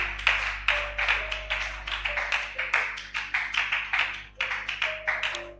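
A church congregation claps in a quick, steady rhythm while acclaiming the Lord, the sharp hand claps close and regular throughout, joined by a faint sustained tone.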